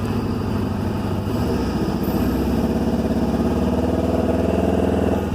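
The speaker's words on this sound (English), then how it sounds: "now what we want to do is give it some throttle" A Ford F150 4x4 truck engine, with its drive shaft removed and running in derate mode, idles, then takes throttle and its steady droning hum climbs gently in pitch, close and continuous.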